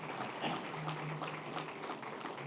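An audience at a State of the City event applauds the mayor of Fresno, with faint, steady clapping heard from a distance.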